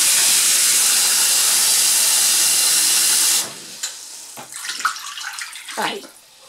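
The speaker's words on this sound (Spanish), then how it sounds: "Vamos a ponerle un poco de agua para dejarla mínimo una hora" Tap water runs in a loud, steady hissing stream onto pork trotters in a kitchen for about three seconds, then stops, leaving softer handling sounds and a voice talking.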